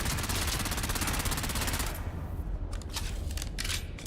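A submachine gun in a video game fires a long, rapid, loud burst lasting about two seconds, followed by scattered shorter shots and impacts.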